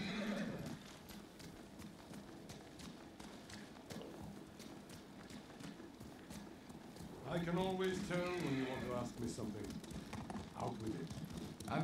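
Horses ridden in the video game Ghost of Tsushima: hooves clip-clopping steadily at a moderate pace under faint ambience, then a loud neigh and whinny partway through, with a further snort near the end.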